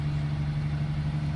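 Ferrari 296 GT3 racing car engine idling in Assetto Corsa, a steady low mechanical hum with an even, unbroken drone throughout, close and moderately loud with no voices.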